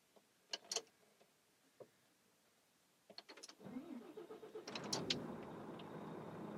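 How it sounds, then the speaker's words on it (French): A Volvo FH13 truck's engine cranks and fires up after a few faint clicks and knocks, settling into a steady, moderately loud idle rumble that continues to the end. "Je passe à la mise en route de mon véhicule."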